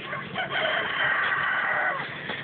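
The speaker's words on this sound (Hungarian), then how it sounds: "Ide csalom be a tyúkokat." Chickens crow and cluck in Minecraft, overlapping game-style fowl calls in a loud, continuous stretch.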